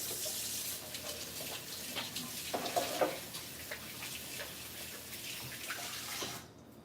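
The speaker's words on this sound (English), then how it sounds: "So let me wash my hands," Hands are washed under a running kitchen tap after baking macarons, giving a steady, fairly quiet stream of water with light splashing that stops abruptly near the end.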